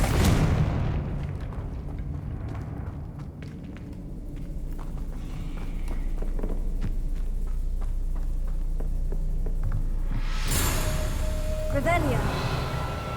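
Explosive blasts from the Confringo fire spell in Hogwarts Legacy, rumbling booms with a bright burst near the end, partly under a voice casting spells.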